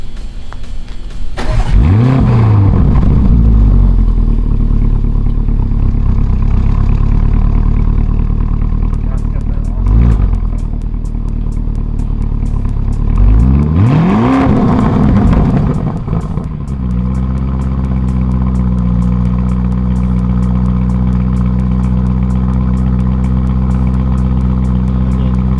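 A 2019 Lamborghini Urus engine swells through several loud revving surges, each rising then falling, before settling into a steady cruising drone; voices speak over parts of it.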